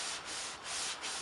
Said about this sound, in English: if you tend to do this a few times with your Scotch-Brite, it takes a lot of the shine out